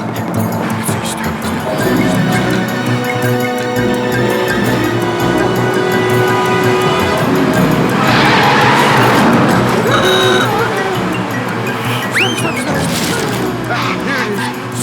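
A cartoon runaway truck races along with a continuous engine roar and rising tire squeals and skids, a loud sustained effects bed with character voices talking over it.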